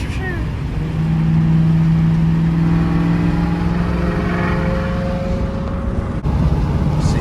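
Ford Mustang GT New Edge with straight-piped exhaust, loud and close, its V8 holding a steady, droning rev that rises and falls slightly, with a brief dip near the end.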